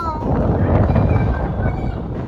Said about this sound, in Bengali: বিদ্যুৎ চমকাচ্ছে, কি জোরে হাওয়া দিচ্ছে, কি মজা।